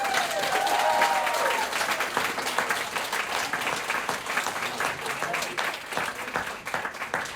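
An audience at a Berkeley civic challenge event applauds the five competing teams with steady, full applause lasting several seconds, a voice briefly heard at the start.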